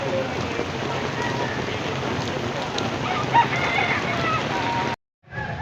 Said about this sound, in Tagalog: bumuhos na yung malakas na ulan